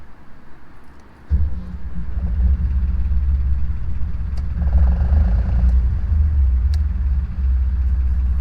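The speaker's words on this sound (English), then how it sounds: "that's the engine going" A canal narrowboat's engine starts up and settles into a steady, loud, low diesel rumble that runs close by for several seconds, with no talking.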